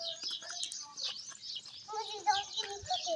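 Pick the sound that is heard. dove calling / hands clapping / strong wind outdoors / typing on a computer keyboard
dove calling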